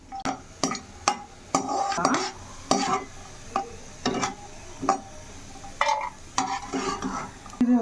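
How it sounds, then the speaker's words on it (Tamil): Semolina (rava) being stirred and roasted in ghee in a pan for rava ladoo: a steady run of loud, close scraping strokes of a spoon against the pan about twice a second, with faint sizzling between them. "இது வறுத்து வச்ச ரவா திரும்பியும் வறுக்கலாம்."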